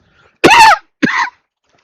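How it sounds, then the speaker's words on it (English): Two harsh coughs close to the mic, the first longer and rougher, the second a short follow-up, with silence before and after. "Still got this cough."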